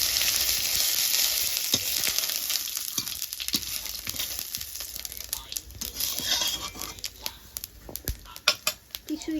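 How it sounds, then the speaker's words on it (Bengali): Cumin seeds frying in hot oil for a Bengali katla fish and bean curry, with steady high hissing sizzle and scattered crackles and stirring clicks, close and moderately quiet throughout. "এই যে জিরেটা আমি ভেজে তুলে নেব।"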